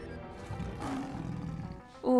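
A leopard in the video game Mabinogi lets out a low growling roar, then a sharper, higher roar bursts in near the end, loud and close, with game sounds beneath.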